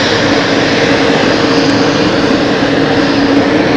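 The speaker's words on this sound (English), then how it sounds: "Air Canada, someone mentioned Air Canada, there it is, moving along here" An Air Canada airliner taxiing at Zurich Airport produces a loud, steady engine roar with a constant whining tone, close by and unbroken throughout.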